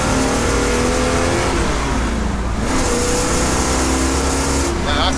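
A 6.6-litre 1969 Pontiac Trans Am Ram Air III V8 pulls hard through the gears, a loud, close, continuous roar with rising engine pitch, heard from inside the car.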